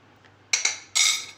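A metal spoon clinks sharply against a container three times while a quarter teaspoon of asafoetida goes into red chili powder, two quick clinks followed by a longer ringing one, close and clear with no talking.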